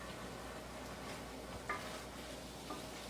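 A Brazilian shrimp and coconut dish is stirred in a pan, giving a soft, faint, continuous simmering sizzle with a couple of light utensil taps.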